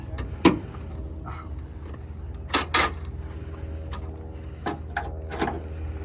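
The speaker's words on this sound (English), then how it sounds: "we're going to go ahead and pop our hood" Hood of a conventional 24-passenger StarCraft bus being popped open, a few sharp metallic clunks and latch clicks scattered over a low idling hum, fairly close and otherwise quiet.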